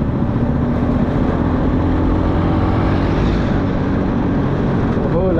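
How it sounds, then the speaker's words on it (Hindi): A long traffic jam on a road in Meghalaya is a steady, dense wash of vehicle engine noise and road roar, continuous and fairly loud, with no break. "भाई, इतना लंबा ट्रैफिक है ना ये।"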